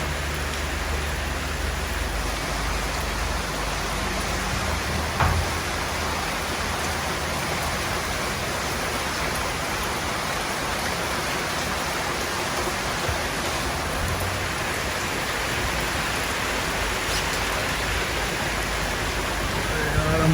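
Heavy, persistent rain in Thailand pours down in an unbroken, even roar of drops on surfaces, holding steady for a long stretch with only an occasional faint knock beneath it.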